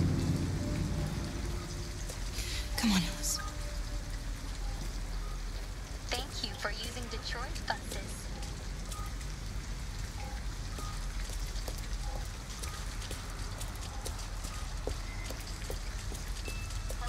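Steady rain falls on a city street in the Detroit: Become Human video game, a constant broadband hiss with scattered drip taps, while game characters speak over it throughout.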